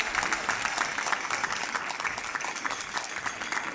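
A festival crowd at the Festas da Peregrina claps for two performers after a traditional pandeirada dance, a continuous, fairly close wash of many hands with a steady texture and no break.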